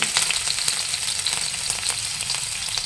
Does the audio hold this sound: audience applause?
no